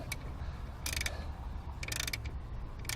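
A ratchet wrench tightens the alternator adjuster on a 1997 Subaru during a power steering and alternator belt change, giving two or three short bursts of rapid, close clicking over a low steady background rumble.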